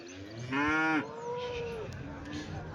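A cow moos once at a Sunday cattle market in Chintamani, a loud harmonic call lasting about half a second near the start, followed by quieter lowing and busy livestock market murmur.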